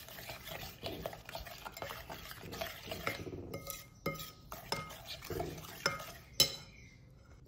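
A utensil stirs and mixes bread dough with flour in a bowl, giving close, irregular scraping and clinking strokes with brief pauses, at fairly low volume and with no talk.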